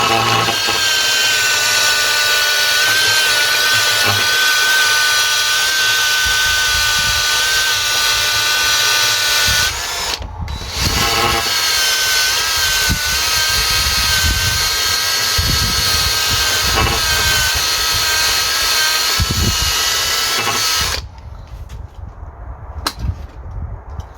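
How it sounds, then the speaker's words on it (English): An angle grinder clearing rubber debris from a rear wishbone bushing on a 2004 Audi A4 B6, a loud, close, high-pitched whine running almost continuously with one brief dip midway before cutting off near the end. "I'm just going to use a grinder just to clear it up."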